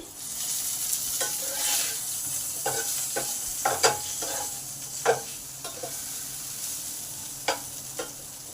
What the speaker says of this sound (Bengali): আলুগুলো ভাজা হয়ে এসেছে।